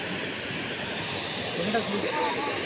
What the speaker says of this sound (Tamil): தண்ணி சவுண்டு கேட்குது ஃப்ரெண்ட்ஸ்